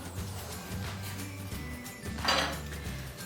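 A knife cutting diagonally through lavash toast over a low background hum, with soft scraping strokes and one brighter clack near the end.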